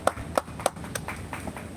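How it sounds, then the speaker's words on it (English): A few sharp hand claps ring out in an irregular burst during a live online discussion, followed by lighter scattered taps under a quiet room tone. "Round of applause."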